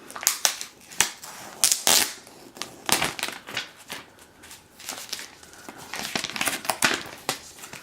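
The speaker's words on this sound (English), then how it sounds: "let's take the plastic out" Plastic wrap peeled off a new iPad Air, loud close crinkling and crackling in irregular bursts for several seconds, with no talk over it.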